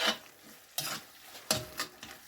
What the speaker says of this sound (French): Et là, je vais mélanger le tout.